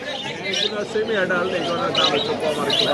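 Cockatiels and other caged birds at the Mirpur-1 bird market chirp and coo in a dense close chorus, with market chatter and voices talking over them throughout.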